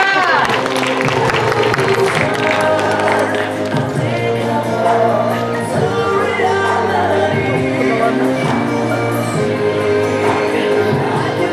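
Festival crowd applauding and cheering during a closing awards ceremony, loud sustained clapping and shouts mixed with music, voices heard throughout.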